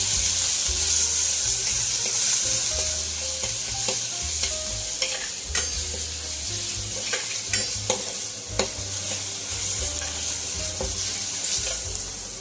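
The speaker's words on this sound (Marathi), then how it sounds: "यानंतर आपण यामध्ये लसूण, अद्रक आणि हिरव्या मिरचीची पेस्ट घालून घेऊ आणि ती छान अशी तळू देऊ।" Garlic, ginger and green chili paste fries in a pan for a buttermilk kadhi, a steady close sizzle with spoon stirring and scraping throughout.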